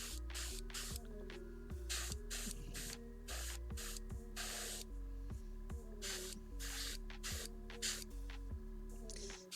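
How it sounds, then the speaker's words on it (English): An airbrush spraying paint onto a C'tan Shard of the Nightbringer miniature, copper skin tone, in repeated short hissing bursts with pauses between, close and fairly quiet, over a low steady hum. "I really hope the airbrush noise isn't too horrendous"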